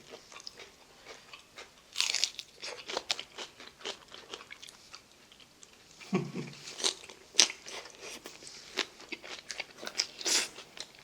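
Close, crisp crunching and biting while eating jokbal (pig's trotters) with salted shrimp, irregular bites and chewing across the whole stretch, mostly quiet between sharper crunches, with no talking.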